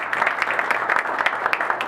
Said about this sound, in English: Please give a round of applause for her as well.